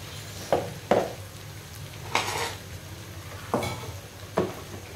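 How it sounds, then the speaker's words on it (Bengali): Onion frying in a pan for a vegetable curry with hilsa fish, a low steady sizzle under five or so sharp scrapes and clacks of a spatula stirring against the pan, close and without talk. "এখন পেঁয়াজটাকে একটু ভাজা ভাজা করে এখানে রসুন দেব।"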